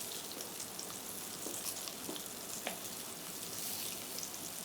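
Turnip pieces fry in olive oil with a steady, dense sizzle as moisture cooks off, continuous and close with faint crackles and no voices.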